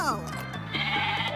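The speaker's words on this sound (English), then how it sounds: "Goats." Goats bleat in a brief, wavering cry, one strong quavering call close by with a second bleat overlapping.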